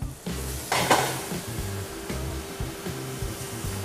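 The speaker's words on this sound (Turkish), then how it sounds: "Mantarlarımızı güzelce soteliyoruz, kavuruyoruz." Mushrooms sauté in a hot pan for a beef Wellington, a steady sizzle with intermittent scraping and stirring clatter of a utensil against the pan, close and fairly quiet, with no talking.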